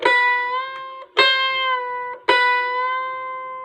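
Single kecapi string plucked three times while its tuning peg is turned, each close, bright pluck ringing out with a long sustain and a slightly shifted pitch, the notes spaced about a second apart with no voices.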